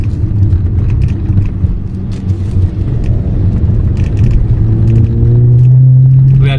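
A car's engine revs hard under full throttle in a manual-mode downshift to overtake on a highway, a loud close rumble whose pitch climbs steadily toward the end.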